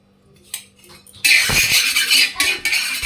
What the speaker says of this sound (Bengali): কড়াই গরম হয়ে গেছে তেল দিয়ে দিচ্ছি